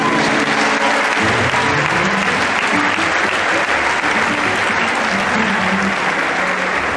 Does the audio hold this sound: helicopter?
no